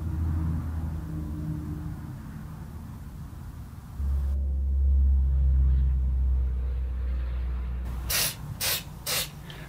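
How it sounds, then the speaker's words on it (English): CA glue accelerator is sprayed onto filled knots in black walnut, a close, steady hissing spray over a low rumble, ending with three short, sharp squirts. "Let's give it a few squirts of accelerator, make sure it's dry."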